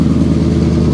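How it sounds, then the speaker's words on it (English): A car's exhaust rumbles at idle or a light rev, a steady low throbbing drone with a fast pulsing beat, close and fairly loud, lasting about a second. "especially with the way that exhaust sounds"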